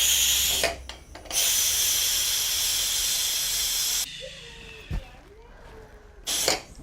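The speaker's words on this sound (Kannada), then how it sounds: "cooker vigil ಹೊಡ್ಸ್ರಿ" Loud steady hiss of steam escaping a pressure cooker whistle indoors, a long sustained blast that cuts off abruptly, followed by quieter room noise with a faint voice and a brief thump, then another short burst of hissing at the end.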